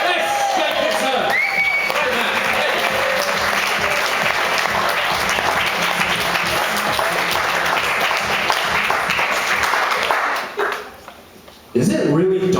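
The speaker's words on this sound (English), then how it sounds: "you've got to give him a big round of applause" Open-mic audience at a comedy night in Basel, Switzerland, applauding and cheering in a loud, dense wash for about ten seconds before it suddenly drops away, with shouts mixed into the clapping.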